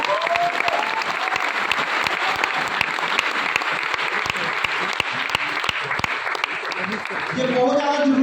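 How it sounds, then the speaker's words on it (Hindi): An audience at a business training session clapping for the speaker, a loud, steady burst of many hands applauding together that carries on for several seconds, with a voice heard near the end. "सर के लिए बहुत जोरदार ताली होनी चाहिए।"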